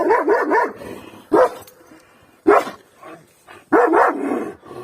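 A Kangal shepherd dog barks in loud bursts, a quick run of yaps, then single barks spaced apart, then another rapid cluster, close to the microphone.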